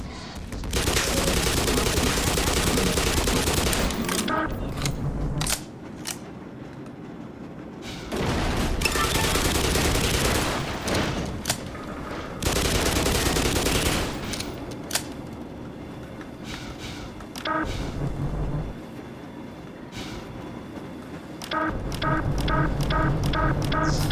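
Dense bursts of gunfire from the Black Mesa video game, loud fusillades and machine-gun rattles coming in several long volleys separated by brief quieter gaps, with occasional booms.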